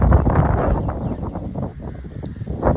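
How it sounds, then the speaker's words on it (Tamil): Gusty wind blows by a lotus pond, buffeting the microphone with a loud, rough rumble that rises and falls across the whole moment. "இப்போ ஒரே காற்று பார்த்தீங்களா?"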